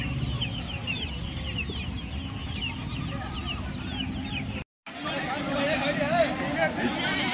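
Chickens cluck amid a busy goat and sheep market near Bangalore, steady crowd babble and talk running throughout with a brief dropout partway, the fowl calls repeating close by under the chatter.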